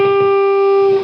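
An electric guitar plays part of a riff: a single clean note rings steadily and then fades, with no other sound around it.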